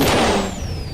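Faulty car making a loud, harsh mechanical noise in a short one-second burst, broadband grinding and hissing with a high whine that fades toward the end.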